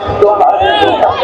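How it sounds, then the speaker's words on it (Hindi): Large crowd at an Eid-e-Milad procession in Bhiwandi, with loud, close shouting and chanting voices rising over a continuous crowd roar. "बहुत ज़्यादा भीड़ है।"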